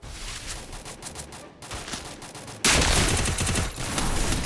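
Rapid bursts of gunfire from the Free Fire battle royale video game, a loud sustained barrage that cuts out briefly and returns even denser and louder, with no talking.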